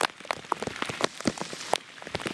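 Heavy rain falls in a village near farm fields, a dense, close patter of drops striking surfaces with irregular louder splats and no voices.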